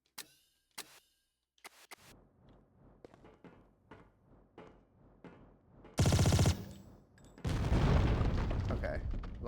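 Gunfire rings out in Tomb Raider: The Angel of Darkness, first as scattered sharp shots, then as a rapid burst and a long heavy roar of fire toward the end.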